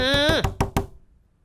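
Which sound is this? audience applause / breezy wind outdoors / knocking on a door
knocking on a door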